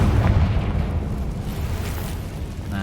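Confringo spell blast in Hogwarts Legacy, a loud rumbling explosion that booms at once and then fades slowly over a couple of seconds.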